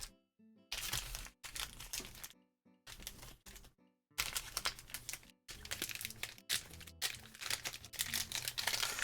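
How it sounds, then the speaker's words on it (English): Card packs being shuffled and handled close up: bursts of crisp crinkling and rustling foil, broken by brief silent pauses. "Actually, yeah, let's shuffle off the packs."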